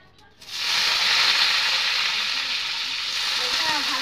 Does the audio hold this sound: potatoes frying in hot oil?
yes